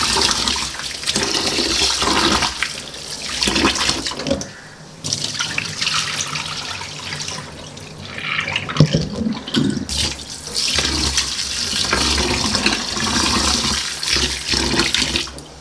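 Ration rice is washed and kneaded by hand in water, with steady splashing, sloshing and trickling that runs almost continuously, pausing briefly a few times, close to the listener.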